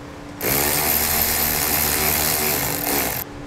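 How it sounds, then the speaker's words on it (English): Continuous buzzing whir of a power tool driving a 10 millimeter socket on the battery nut of a 2014 Jeep Wrangler, one steady close burst of about three seconds that starts and stops abruptly. "Next, we'll take a 10 millimeter socket. Go ahead and remove this nut here."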